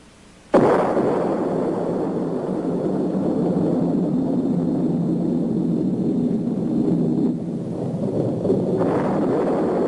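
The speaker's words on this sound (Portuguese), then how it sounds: "A primeira explosão atômica chocou o mundo" A sudden deep roaring blast from an atomic bomb explosion that swells into a long, sustained rumble, loud and continuous, with no voices.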